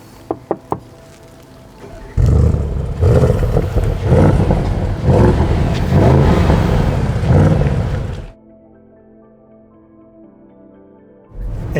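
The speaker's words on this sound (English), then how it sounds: "now let's check out how this S8 sounds" Engine and exhaust of a 2020 Audi S8 sporty limousine revving: a few sharp blips at the start, then a loud sustained roar for several seconds that cuts off abruptly, followed by a quiet idle and a final rise.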